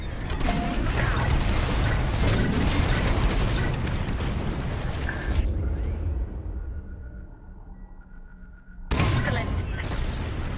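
Bombs dropping and exploding in the space combat game Star Wars Squadrons, a dense roaring barrage of blasts that fades out briefly before another loud burst returns near the end.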